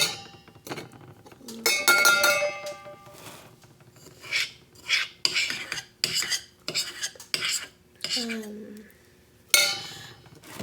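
A spoon stirs coffee in a cup, producing repeated scraping swirls and sharp clinks against the sides in irregular bursts, fairly close and clear.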